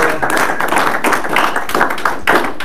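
A stand-up comedy crowd claps for a performer, a dense, steady patter of many hands that stays loud and continuous throughout, with no talking over it.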